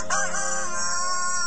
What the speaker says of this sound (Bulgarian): и на часа пропя петел